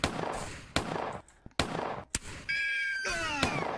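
Several sharp gunshots crack out one after another with short gaps, followed by whistling, sliding electronic tones, all loud and close in a Christmas-themed game scene.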